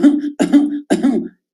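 A person imitates a whooping-cough-style cough in three harsh, voiced bursts, each a fit of rapid coughs with a pause between. Coughs are close, loud and alone, with no other talk.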